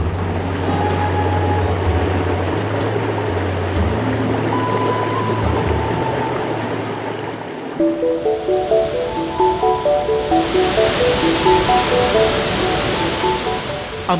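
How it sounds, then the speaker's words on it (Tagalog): Pagsanghan Falls in Laguna pours in a dense, continuous rushing roar of water, steady and close, with a low boat-like rumble early on. "Ang pamosong Pagsanghan Falls ay isa sa makakapagpatunay nito."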